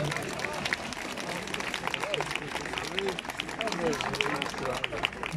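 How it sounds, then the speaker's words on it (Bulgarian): An audience at a Bulgarian plum festival celebration applauds the orchestra with a dense, steady patter of many hands, while a voice talks over the clapping throughout. "Аплодисменти за оркестъра бяха великолепни."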